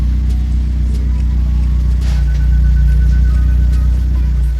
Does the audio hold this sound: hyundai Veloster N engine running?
yes